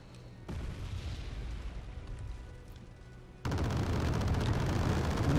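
Artillery fire in the Wargame Red Dragon strategy game, a continuous rumbling barrage of low booms and blasts that swells suddenly louder partway through, dense and sustained.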